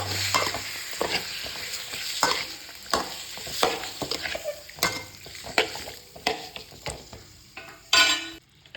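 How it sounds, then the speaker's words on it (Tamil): Chicken pieces dropped into a hot pan for a village-style chicken water curry and stirred, giving a steady loud sizzle broken by repeated scraping stirs and a sharp clatter near the end, with no talk. "சிக்கனை போட்டு கரெக்டாக ஒரு கிண்டு"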